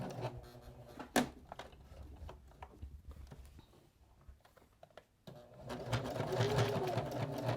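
A sewing machine stitches through fabric and batting in short close bursts, a sharp thump early on, then a quieter gap before a steady run of fast stitching.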